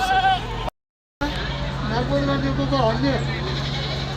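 Goats and kids bleat in wavering, nasal calls at a livestock market, over a busy crowd with steady talking throughout, briefly cut by a moment of silence.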